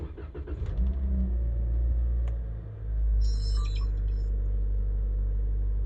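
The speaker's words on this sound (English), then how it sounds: "make sure the car actually turns on" A Toyota Corolla engine, just fitted with a new battery, cranks briefly, catches, and settles into a steady low idle, heard from close by inside the car with a faint electronic chirp.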